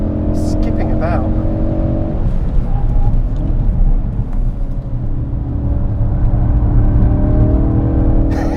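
Ford Focus RS driving on the Goodwood track, a loud steady engine roar and tyre rumble heard from inside the car with no let-up, a brief sharp tone near the start.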